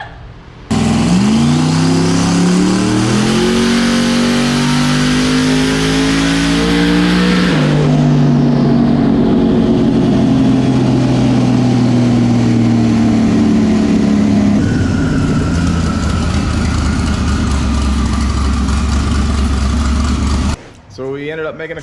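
A 1300hp LS-swapped twin turbo BMW E90 makes a full-throttle pull, loud and close. Its pitch climbs for several seconds, then drops sharply and carries on as a lower, sustained roar before cutting off near the end.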